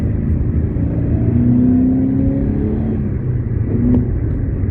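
A 1990s Subaru Impreza engine rumbles loudly from inside the car after a clutch cable adjustment, its pitch rising as it accelerates, steady and continuous with no talking.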